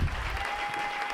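A church congregation applauds the Lord in a sustained burst of clapping, dense and steady throughout with no spoken voice over it.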